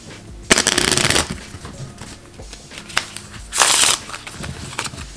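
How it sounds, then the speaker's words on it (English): A deck of playing cards is shuffled in bursts, two loud riffling flurries separated by quieter handling clicks, close up during a card trick. "you can now shuffle the deck as a spectator"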